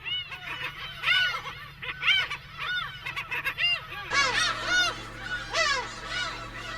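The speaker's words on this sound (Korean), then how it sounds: "조용하던 괭이 갈매기들에게 무슨 일이 생겼나 봅니다." A colony of black-tailed gulls calling, dense overlapping honking, mewing cries from many birds at once, loud and continuous, growing busier partway through.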